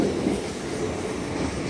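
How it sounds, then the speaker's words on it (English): A Northern Trains class 331 unit passes a platform at Leeds with a loud, steady rumble and rail noise, close by and continuous, with no voices over it. "Passing now after the platform trains is a Northern Trains 331, working a service to Ilkley."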